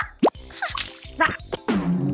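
Cartoon water effects arrive as a few quick, close plops and splashy drips in short separate bursts, the last one a longer watery gush.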